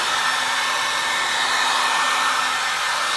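A hair dryer blows continuously at close range, drying a wet Mighty Mule 462 gate opener arm, a loud, steady whooshing roar with a faint motor whine and no talking.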